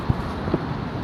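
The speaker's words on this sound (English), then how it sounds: "So, it's windy." Steady wind buffets an outdoor microphone, a low rumbling roar with a couple of soft thumps throughout.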